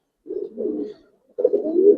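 Giribaz coloring pigeons cooing in two close, loud bursts of low, rolling coos separated by a short pause.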